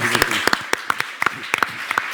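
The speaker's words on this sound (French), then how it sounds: "Applaudissements pour Pierre-Marie Perrin" A small audience applauding a guest at the end of a French local television programme, with sharp, distinct individual claps in an irregular patter that lasts about two seconds.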